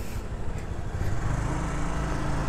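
A Bristol Omega 400i classic-style motorcycle engine idling up close, a steady, rough, throbbing rumble that holds even throughout with no talk over it.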